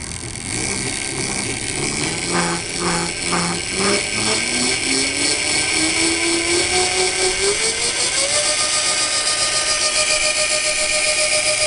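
A 48V 1000W electric hub motor spins with no load on a jack stand, its whine climbing steadily in pitch as the throttle opens and then holding a high, even tone over a constant mechanical hum.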